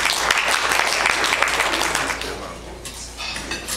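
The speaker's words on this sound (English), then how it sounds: "Applause is what I was asking for." Audience at a chamber of commerce candidates forum claps in a brief burst that is strongest at first, then thins and fades, with a low steady hum and some background murmur.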